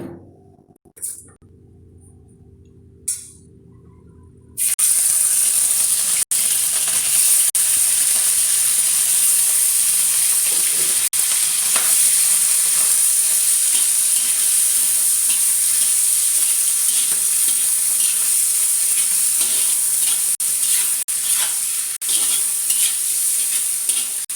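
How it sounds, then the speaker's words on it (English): Tiger prawns fry in a hot pan, starting abruptly into a loud, steady sizzle and hiss that continues unbroken for the rest of the stretch, with faint crackles and no talking. "So I'm going to fry the prawns and keep it aside."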